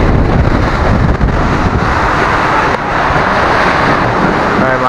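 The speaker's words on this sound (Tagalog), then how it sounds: "sobrang lakas ng hangin." Powerful typhoon wind from Typhoon Karding roars and buffets the microphone nonstop, loud and close, with a rushing, turbulent texture and no clear voices.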